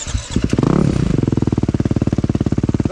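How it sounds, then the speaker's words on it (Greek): A Beta 480 enduro motorcycle with a deafening exhaust starts up, then idles in a fast, even throb of loud pulses at close range. "Τώρα δεις πως σε κουφαίνει αυτή η εξάτμιση τώρα"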